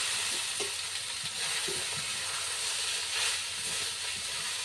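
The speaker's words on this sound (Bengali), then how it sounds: "রসুনটা ভাজা হয়ে গেছে এরপর আমি শাকটা এর মধ্যে দিয়ে দিলাম" Leafy greens frying with garlic in hot oil give a continuous loud hissing sizzle throughout, with a few soft knocks of stirring beneath.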